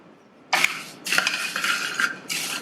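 Spiced puffed rice snack stirred in a pan with garam masala and chaat masala, repeated close scraping and rustling strokes of a spoon through the dry crispy grains, steady and fairly loud, with no voices.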